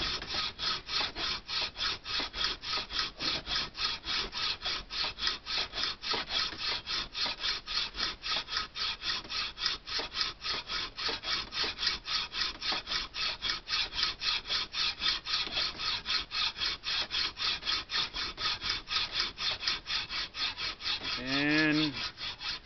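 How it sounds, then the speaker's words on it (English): A hand saw cuts all the way through a piece of wood with steady, rhythmic back-and-forth strokes, close and continuous, with no talking over it. "make sure you saw all the way through. You don't want to leave that burr on the very end."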